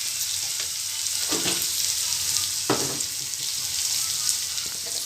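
Spices such as turmeric and cumin roasting in a hot pan for Maharashtrian amti, a steady close sizzle with occasional soft stirring scrapes throughout.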